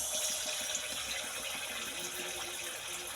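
Cabbage pakora frying gently in oil over low heat, a steady close, fine hiss and sizzle that holds even and continuous throughout with no talk.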